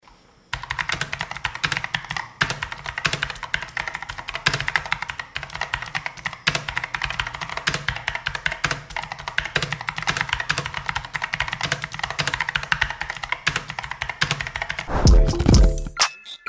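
Rapid, crisp clicking of mechanical keyboard keys, steady and close, with no voices, ending in a brief thump.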